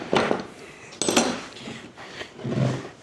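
Heavy duty metal clamps are handled close by in a workshop, giving several separate clanks and knocks of metal with brief quiet gaps between them.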